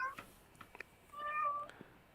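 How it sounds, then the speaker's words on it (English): A cat gives a faint, thin meow against a low background hiss, with a few soft clicks and knocks nearby. "Meow."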